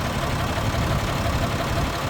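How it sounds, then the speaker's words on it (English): A 2014 Peterbilt 348 flatbed truck engine idles after about an hour of running, giving a steady, close, even diesel rumble with no talk over it. "The engine sounds really good."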